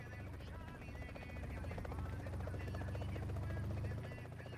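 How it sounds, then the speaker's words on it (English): A helicopter in the video game PUBG whirs continuously with a dense, pulsing rotor drone that swells louder midway and then eases off, with no speech over it. "I never thought I would see the day where there's a helicopter in PUBG"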